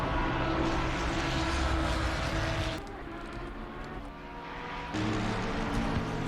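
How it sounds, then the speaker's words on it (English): A light propeller aircraft drones overhead in Assetto Corsa Competizione at Spa, a steady broadband engine roar that dips in loudness midway and then swells again, with no voices. "Stupid plane making noises. Some sort of light aircraft."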